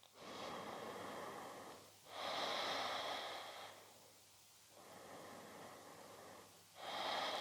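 Slow, deep breaths during a Pilates exercise, four long airy inhales and exhales in a steady rhythm, close and quiet, with no talk.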